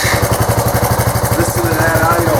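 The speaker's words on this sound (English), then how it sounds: "Listen to that idle." Suzuki GN125 motorcycle engine idling close by with a steady, rapid low chuffing pulse, loud and even throughout the short stretch.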